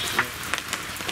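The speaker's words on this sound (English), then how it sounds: "it's still pouring down the rain" Heavy rain pouring onto a camp shelter roof, a dense steady patter with a few sharper drops striking close by.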